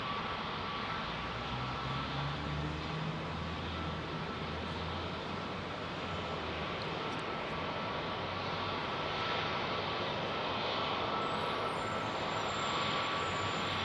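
Aircraft landing on runway 27R at Heathrow Airport, a steady, loud broadband engine roar that holds throughout with a low rumble underneath and no speech.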